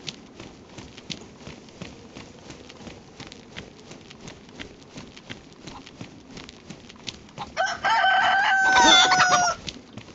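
In a survival video game, a rooster crows once, loud and close, after a stretch of rhythmic clip-clop footsteps.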